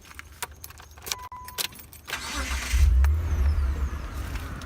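Keys jingle and click close by, then a van engine turns over and settles into a low, rumbling idle that grows steadily louder.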